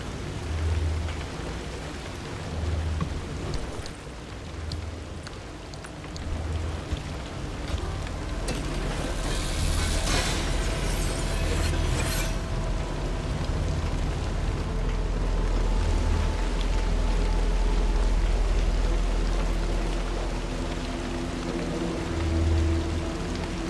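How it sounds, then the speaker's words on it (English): Steady rain in the survival driving game Pacific Drive, a dense continuous hiss of drops with a low rumbling undertone, swelling louder in the middle and holding through to the end with no talk. "He thinks it started raining."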